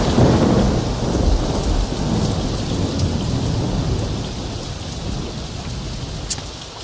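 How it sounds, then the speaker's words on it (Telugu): A heavy rainstorm pours down with rolling thunder, the steady dense hiss of rain on surfaces beneath a deep rumble that is loudest at first and slowly fades, with no voices. "ఏమిటో ఈ వర్షం, మ్యాచ్ ప్రాక్టీస్ చేసుకోవడానికి లేకుండా"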